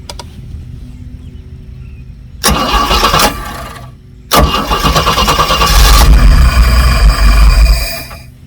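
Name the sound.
boat engine starting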